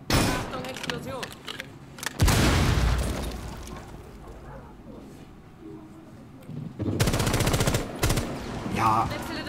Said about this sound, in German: Ich schieße mit der Schnellfeuerwaffe auf ihn und er mit der Pistole gibt mir einen Headshot